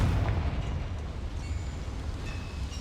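A Confringo blasting curse explodes in Hogwarts Legacy inside a small mine, a sustained deep rumbling boom with crackling debris that stays loud throughout and slowly tails off, with no voices.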